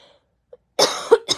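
A woman coughs close by in a quiet room, a brief burst followed by a second shorter cough, with a faint tiny sound just before.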